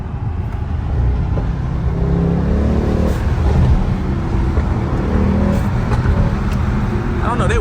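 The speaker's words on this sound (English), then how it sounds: "this car also has blowout valves" Mercedes-AMG GT63s revving hard and steadily, with its blow-off valves whooshing in brief bursts over the continuous loud engine roar; speech is faintly present.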